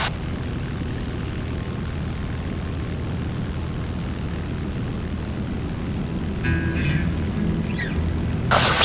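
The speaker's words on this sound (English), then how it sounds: "Now let's do a fun takeoff." A fixed-wing airplane rolls for takeoff down a long runway, its propeller engine droning steadily and close. The wind and engine roar build slightly toward the end, and there is no talk.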